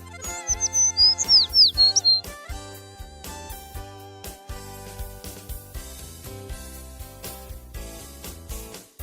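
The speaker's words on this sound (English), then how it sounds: "Sparrow." A sparrow chirps in a quick run of high, bright tweets near the start, heard over steady musical tones that continue throughout.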